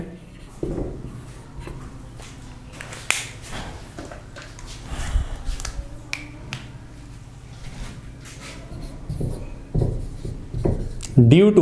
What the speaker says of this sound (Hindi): तो ये पॉइंट मैं लिख रहा हूं